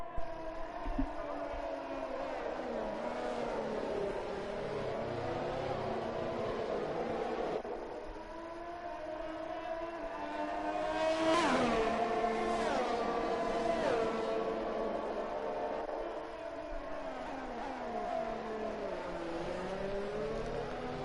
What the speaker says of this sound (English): here we are with the formation lap of this sprint race